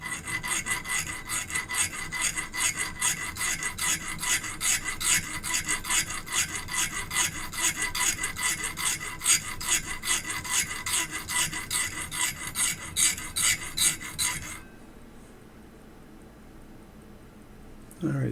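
Hand file rasping flat the end of a watch stem, a steady rhythmic back-and-forth scraping of fast strokes for about fourteen seconds, then stopping into quiet.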